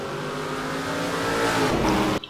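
An Audi race car lapping a circuit in a sim racing league round at Ribeirao Preto, its engine droning steadily and rising in pitch as it accelerates past, then cutting off abruptly.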